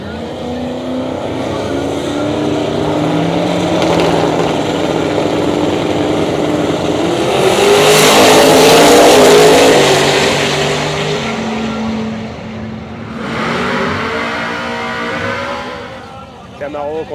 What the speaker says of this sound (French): Camaro contre une Mustang un peu énervée.